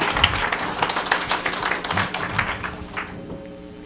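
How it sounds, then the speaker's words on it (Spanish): A church congregation claps for Jesus at a 2024 marriage sermon, a burst of moderately loud, rhythmic applause that thins out and fades toward the end. "Demos fuerte aplauso a Jesús."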